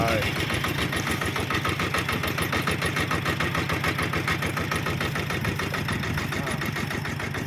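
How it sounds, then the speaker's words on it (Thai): A Toyota Vigo pickup engine running near the listener, a steady rough mid-pitched idle with a fast regular pulse throughout, no voices over it. "สตาร์ทวีโก้"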